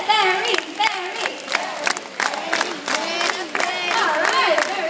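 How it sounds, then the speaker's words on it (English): At a bird show in Jurong, an audience claps in rhythmic bursts while chanting a macaw's name in unison, loud and close, the claps and shouts repeating in a steady beat. "I want you to clap your hands and shout his name just like that."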